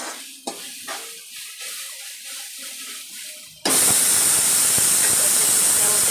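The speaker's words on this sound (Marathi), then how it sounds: "मस्तपैकी असं आपल्याला परतून घ्यायचं आहे" A masala for misal sizzles in a hot pan, starting as faint frying under quiet background noise and then jumping to a loud, steady hiss and crackle for the last few seconds.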